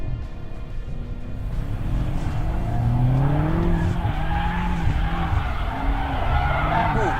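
A BMW M5 squeals its tires through a tight drift around a corner. The long, loud, wavering screech continues over engine roar, and a voice talks faintly beneath it.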